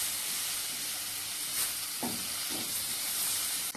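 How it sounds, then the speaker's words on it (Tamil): Chopped tomatoes sautéing in hot oil in a pan, a steady close sizzle and hiss with a few soft stirring scrapes, no talking. "நல்லா தக்காளி வதங்கணும்."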